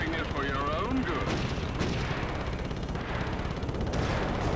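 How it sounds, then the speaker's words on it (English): Missiles firing during a Ratchet & Clank boss battle, a dense, continuous barrage of booming game gunfire and explosions with a warbling synthetic tone near the start, loud and unbroken throughout. "it's quite hard to get past these missiles"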